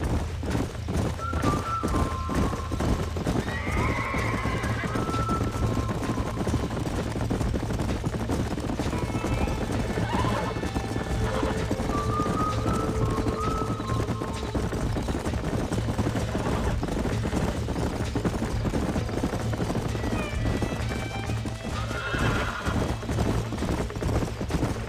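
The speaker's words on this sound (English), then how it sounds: "These are fine horses." Horses in the Western video game Red Dead Redemption clip-clop steadily through a continuous busy game soundscape, with a few whinnies and neighs rising briefly above the hoofbeats.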